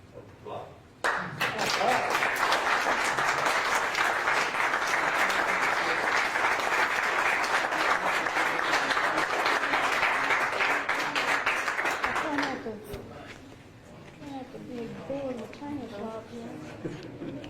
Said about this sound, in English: I'd like for everybody to give you a hand of applause.